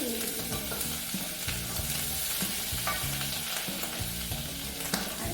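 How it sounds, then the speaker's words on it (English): Garlic sautés in a pan with a continuous close sizzle, broken by the scrape and clatter of stirring throughout. "tablespoons of garlic. And we are going to saute that."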